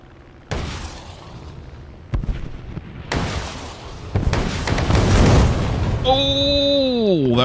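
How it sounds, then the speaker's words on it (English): Rocket explosions from a player's own plane in War Thunder air arcade: several sharp blasts a second or so apart build into a loud, roaring rumble, ending with a descending whine. "Almost blew myself up."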